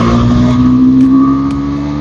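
A Husqvarna Svartpilen 401 motorcycle with a KTM engine runs with a loud, steady, close engine drone. The pitch holds fairly even with slight swells as the throttle is worked.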